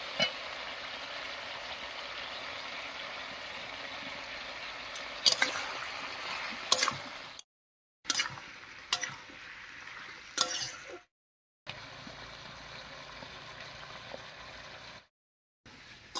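A spice paste fries with bottle gourd for koi fish curry, making a soft, steady sizzle and bubbling close by, broken by a few stirring scrapes and brief silent gaps.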